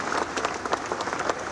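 Crowd applause at a public gathering, a steady dense patter of many hands clapping at moderate distance, continuous through the short stretch with no voices standing out.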